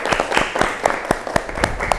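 Classroom applause for a student's correct answer, a handful of pupils clapping in an irregular burst of sharp, close claps, fairly loud and steady for about two seconds.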